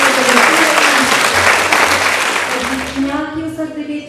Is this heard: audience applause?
yes